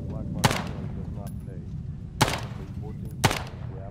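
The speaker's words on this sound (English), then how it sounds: "So just gonna fire a few rounds in" Semi-automatic shots from an M2 carbine in the video game ARMA 3, three sharp separate reports spaced unevenly with short echoing tails, loud and close over a low rumbling game background.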